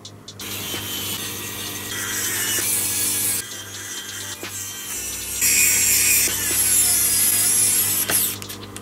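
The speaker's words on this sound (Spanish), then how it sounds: "ya atornillé aquí ya todos los tornillos" Screws being driven into the hinge of an Acer Aspire E 15 E5-575G laptop: close, continuous scraping and grinding with faint ratchet-like clicks, steady and fairly loud throughout, with no talking.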